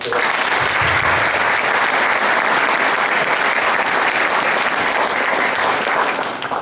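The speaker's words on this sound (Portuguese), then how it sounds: "Uma salva de palmas." A dense, steady burst of audience applause for the councillor of Lousada fills the room at a young people's event, loud and continuous from start to finish with no break.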